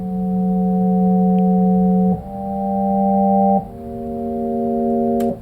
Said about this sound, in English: I named it Suction Synth because it literally sounds like a suction.